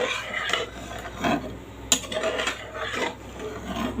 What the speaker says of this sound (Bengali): নেড়ে চেড়ে দেবো মাছগুলোকে